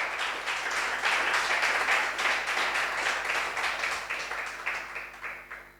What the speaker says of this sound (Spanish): Dale un aplauso al Señor, gloria a Dios.